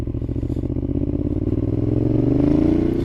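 A Ducati Diavel motorcycle is ridden with a loud, close engine drone whose pitch climbs steadily as it accelerates, alone with no talk.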